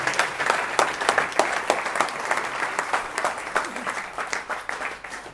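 An audience at an RCM stage event breaks into strong applause: dense, steady clapping that fills the hall and gradually thins toward the end.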